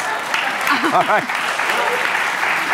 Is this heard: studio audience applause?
yes